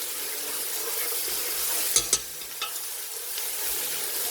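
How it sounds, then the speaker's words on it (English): A steady, close sizzle of tomato paste frying in a pan, with a few light clinks from a utensil stirring. "my tomato paste has been frying for like 3-4 minutes"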